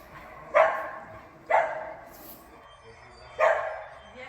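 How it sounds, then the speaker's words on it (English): Three short, bright dog barks spaced apart, with a quiet pause before the last one; the barks sound close and lively over faint background noise. "There's just some happy barks in there"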